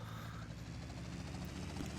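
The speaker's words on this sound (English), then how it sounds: "I just like to use the helicopter" A helicopter flies in Grand Theft Auto Vice City, giving a continuous whirring rotor drone with a low throbbing hum, steady and even in level with no talking.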